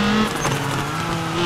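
Rally car in the WRC 3 racing game on a Welsh stage, engine droning steadily as it swings through a hairpin handbrake turn, loud and continuous with a faint hint of tyre scrub, no talk.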